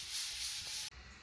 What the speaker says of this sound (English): I'm just sanding this.